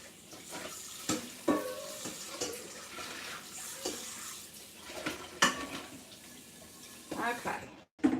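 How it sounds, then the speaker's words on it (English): Tap water runs in bursts while a mixing bowl and whisk are rinsed in a kitchen, with clinks and clatters of the bowl and utensils; the sounds are fairly quiet and close, with brief gaps between splashes. "So you rinse all that out of that bowl."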